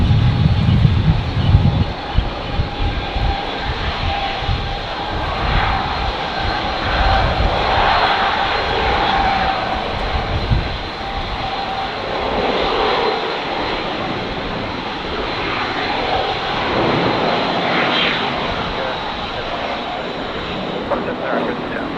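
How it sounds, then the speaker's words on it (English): A Qantas jet airliner departs Brisbane Airport with a loud, sustained engine roar that builds and holds, mixed with wind rumble, and a voice talks over it in places. "So Qantas 935 here off to Perth."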